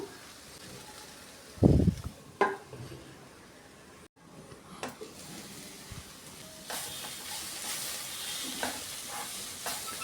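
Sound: cabbage and coriander cooking in a little oil in a pan

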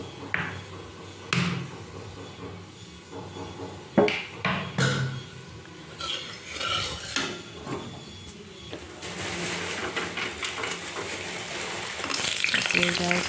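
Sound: lentil dumplings (bori) frying in hot oil in a wok

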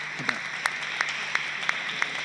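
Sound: audience applause at a literary talk

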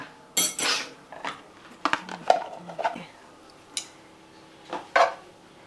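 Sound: metal tongs moving butter in a frying pan

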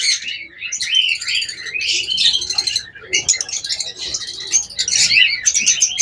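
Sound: pair of blue Fischer's lovebirds chirping

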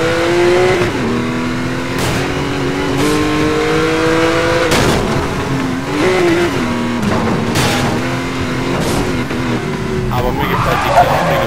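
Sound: Porsche engine revving in video game Need for Speed Most Wanted

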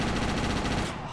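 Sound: gunshots in video game GTA Chinatown Wars

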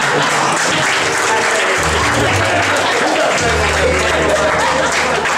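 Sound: audience applause at pálinka competition

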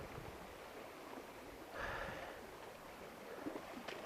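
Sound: fast-flowing stream current

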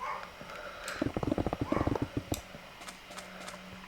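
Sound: dog barking

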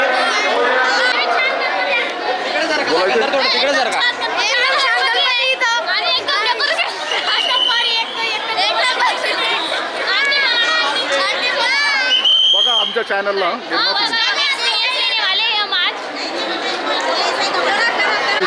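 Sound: crowd chatter at Ganesh festival decoration

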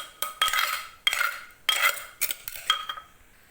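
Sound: spooning seasoned dip into a bowl

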